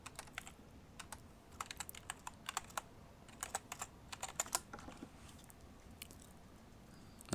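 Rapid, uneven keystrokes on a computer keyboard as a password is typed, close and fairly quiet, clustered in short bursts with brief pauses, no voices.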